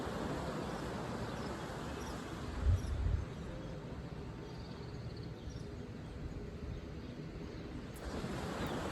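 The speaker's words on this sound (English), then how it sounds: "If you hear the waves behind me, just enjoy the sound of the ocean." Steady broadband rush of ocean surf on a shore, with a slightly louder swell and some wind noise on the microphone, no voices.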